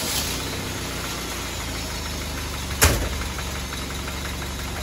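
An old Toyota Hilux engine, revived after sitting for 15 years and recently retimed, idles steadily with a faint rhythmic tapping that may be a knock, plus one sharp brief clack partway through.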